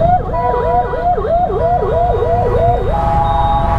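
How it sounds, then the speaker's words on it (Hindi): A police siren fitted to a private vehicle wails, rising and falling in a steady, rapid cycle, loud and close, over the rumble of crowded road traffic in India. "एक ने इसमें पुलिस का सायरन लगा के घूम रहा है"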